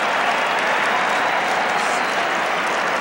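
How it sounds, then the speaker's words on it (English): Stadium crowd at a 1990 NCAA men's lacrosse game between Syracuse and Johns Hopkins roars and applauds after a behind-the-back goal, a dense, loud, sustained wall of cheering and clapping. "Listen to the crowd."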